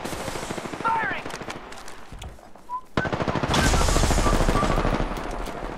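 A machine gun fires in a video game as a fast, hammering burst that starts close and loud and keeps rattling after a short earlier volley. A voice speaks briefly alongside it.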